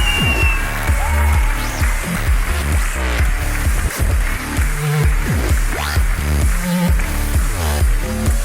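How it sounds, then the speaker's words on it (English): An esports crowd at a League of Legends DreamHack finals roaring, cheering and applauding after a game win, dense and loud over a pulsing beat of music. "And the crowd goes mental."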